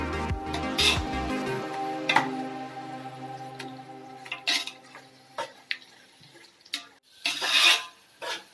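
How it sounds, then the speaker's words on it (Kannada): Chilli powder, turmeric, garam masala and mutton curry powder are stirred and fried in a pan in a village kitchen, heard as intermittent metallic scrapes and clinks of a spoon against the pan with short quiet gaps between them. "ಈಗ ಇದನ್ನು 1-2 ನಿಮಿಷ ಫ್ರೈ ಮಾಡ್ಕೋಬೇಕು."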